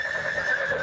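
A horse mount in the VR video game Neon Sprint lets out a single short, bright whinny, close and clear with no talking.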